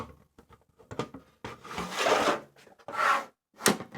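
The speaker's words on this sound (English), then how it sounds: "Now if you want to use the dome diffuser, that slides into the front" A plastic dome diffuser slides into the front of a Litepanels Gemini 2x1 Hard LED light panel, giving a few faint clicks and then short, close rubbing and scraping sounds that end with a firmer snap as it locks into place.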